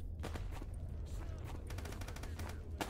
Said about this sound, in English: I'm gonna avoid all of that gunfire.